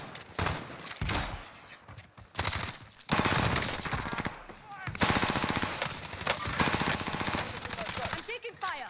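Automatic weapon fire in the video game Warzone, rapid loud bursts coming in several long volleys separated by short gaps, close and harsh, with a voice speaking over parts of the shooting.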